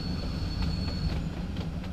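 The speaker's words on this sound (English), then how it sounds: "This train is powered by an LMS Jubilee class steam locomotive." An LMS Jubilee class steam locomotive pulls its train in Train Sim World 2, giving a steady close rolling rumble with faint rhythmic wheel beats and a thin high whine.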